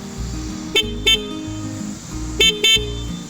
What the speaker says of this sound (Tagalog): yung busina nito, ordinary lang pero malakas naman.